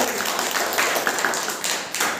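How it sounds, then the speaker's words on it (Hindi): Children clap in a classroom during a maths lesson on odd and even numbers, a brief ragged burst of claps that starts together and thins out. "बैठ जाइए, बहुत बढ़िया, ताली बजाओ।"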